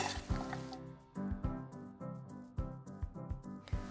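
Mixed salad dressed with salt, olive oil and vinegar being tossed in a bowl, a run of wet squelching and soft clinking strokes in quick irregular rhythm, close and without talk.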